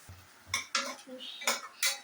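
Onions sautéing in a pot for biryani while a metal utensil stirs, with a string of close, bright clinks and scrapes against the pot in an uneven rhythm.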